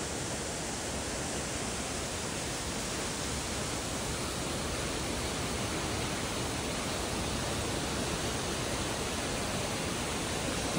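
A mountain waterfall roars in a steady, dense wash of rushing water beside a rain-soaked road hit by a landslide, with no voices.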